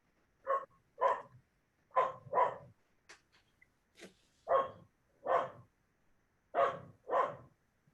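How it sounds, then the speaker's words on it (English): A dog barks in short pairs and single woofs, about eight loud, close barks spaced across the stretch with brief quiet gaps between, no voices over them. "while we're listening to your dog"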